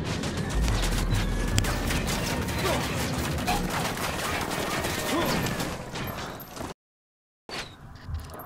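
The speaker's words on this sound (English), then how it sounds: "Assault rifle." Assault rifle gunfire in a Ghost Recon video game, dense rapid shooting and crackling battle noise running nearly throughout, loud and close, broken by a short silent gap near the end.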